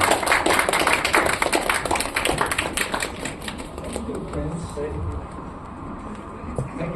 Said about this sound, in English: please give a round of applause and a warm welcome to our distinguished guest